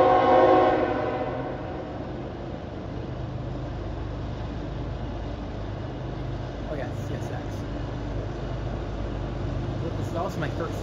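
A CSX freight train at Union, New Jersey sounds a loud horn blast at the start. A long steady rumble of rolling railcars passing close by follows, with faint squeals late in the clip.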